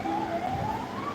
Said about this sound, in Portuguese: É muita sirene essa avenida